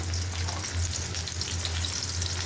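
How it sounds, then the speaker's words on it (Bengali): Cabbage frying in hot oil with chopped garlic and onion, a loud, constant sizzle and crackle close up with a low hum underneath and no talking. "তেল পরিমাণ মতো, পাতাকপি ভাজিটা বসাবো।"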